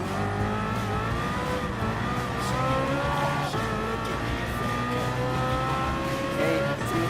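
Gr.3 race car engines, including a Ford Mustang and BMW, roar and whine through gear changes on the final lap of a Gran Turismo Sport race, loud and continuous with overlapping engine tones.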